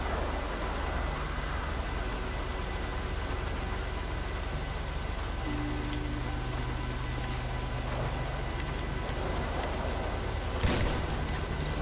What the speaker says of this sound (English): I don't know how we're gonna do this with the freaking rain